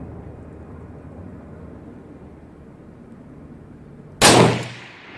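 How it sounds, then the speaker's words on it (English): A 224 Valkyrie rifle firing Hornady 88 gr ELD Match factory ammunition at a 100-yard range lets out one loud, sharp crack with a short ringing decay near the end, after several seconds of steady low outdoor rumble. "If I didn't say before, I'm shooting at 100 yards."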